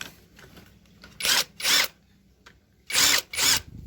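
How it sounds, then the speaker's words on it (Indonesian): A power drill tightens bolts during assembly of a Honda Grand motorcycle engine, giving four loud, close whirring bursts in two pairs separated by a quiet pause, with no talking. "Perhatikan cara pemasangan baut ya teman-teman, harus seimbang ya."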